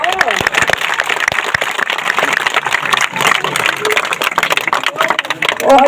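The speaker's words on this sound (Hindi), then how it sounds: "तालियां तो जोरदार बजा दो।" Crowd applause at a village gathering in Dewawas during a political tour of the Tosham area, with dense, loud clapping and voices mixed in.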